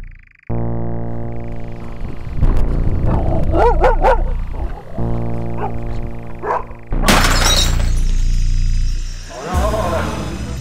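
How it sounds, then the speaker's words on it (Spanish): In a radio drama effect, a dog lets out a terrifying bark and leaps through a window, with a burst of shattering glass midway, loud and close over a low sustained drone. "el perro dio un brusco respingo, lanzó un aterrador ladrido y se arrojó precipitadamente por la ventana por la que había entrado"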